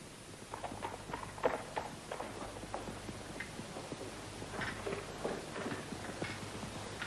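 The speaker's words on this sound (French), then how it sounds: "Monseigneur, un cavalier approche." A single horse carrying a mounted knight approaches at a walk, its hooves clip-clopping in a steady rhythm that grows slightly nearer, with no voices over it.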